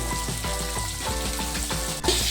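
Eggs fry in a little oil with turmeric in a pressure cooker pan for egg biryani, a steady close sizzle running under soft tonal background music.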